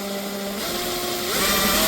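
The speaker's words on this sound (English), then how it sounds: "then I need to drill a hole where the cable's going to come out" A power drill bores a hole in a car interior for a charger cable, a short high whine that steadies and then strains louder near the end, close and alone.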